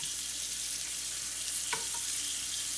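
Sweet potato pieces frying in a pan, a steady soft sizzle with a brief scrape or stir partway through, heard close and alone without talking.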